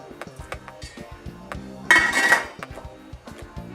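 A cover is set onto a cooking pot of grilled peppers and vegan sausages over medium heat, one bright metallic clatter and ring standing out amid soft repeated kitchen clinks and taps.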